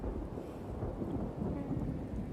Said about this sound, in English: Oh, but I really enjoy the thunder.